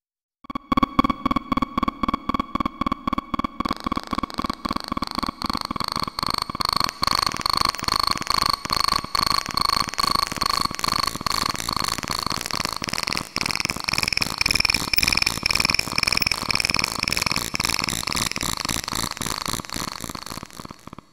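Pulsar train synthesis from the PULSAR synthesizer plugin, a buzzing stream of rapid, evenly spaced pulses with bright tonal overtones that shift in texture as pulse width and amplitude change, sustained for about twenty seconds without any voice.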